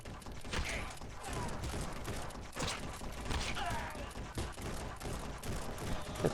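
Dense, continuous gunfire rattles through a VR shooter, Guns 'N' Stories Bulletproof, with overlapping bursts and mechanical clicks forming a loud, steady barrage from start to finish.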